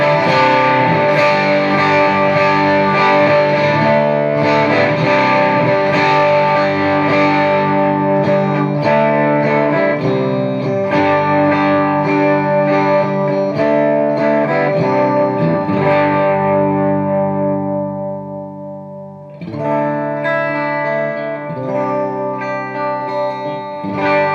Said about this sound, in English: And now with Mojo Mojo Overdrive.